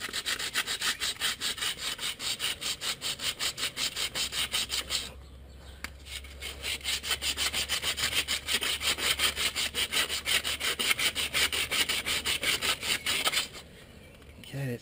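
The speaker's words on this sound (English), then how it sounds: "I'm going to take emery tape and get this face here" Emery cloth is rubbed back and forth across the face of a Ford Mondeo front brake rotor in quick, steady rasping strokes, with one short pause midway and another near the end.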